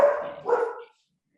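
A single dog gives two quick barks, close and fairly loud, followed by silence.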